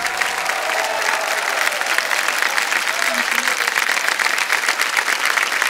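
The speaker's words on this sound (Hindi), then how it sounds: "ताली बज जाए जोर से इनके लिए" Studio audience on a TV quiz show applauding a contestant who answered correctly, continuous loud crowd clapping that stays even and steady throughout.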